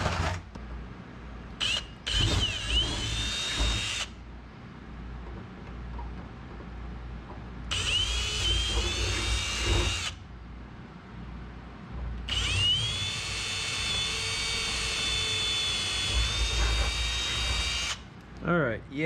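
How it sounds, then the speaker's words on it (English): A power drill bores out holes in the parts of an adjustable sliding seat kit for a Zenith 750 Cruzer kit airplane, in three separate whining bursts of several seconds each, close by, with brief talk in the gaps. "let's drill out the rest of these"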